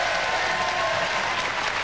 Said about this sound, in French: Vous pouvez l'encourager, l'applaudir, Alain.